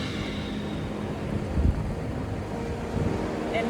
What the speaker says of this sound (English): Please excuse the wind and the waves in the background.